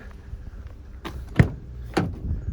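On a 2018 Peugeot Expert 2.0 HDI van, the driver's door is opened with a few sharp mechanical clicks and clunks of the latch and hinge, close by in an otherwise quiet setting.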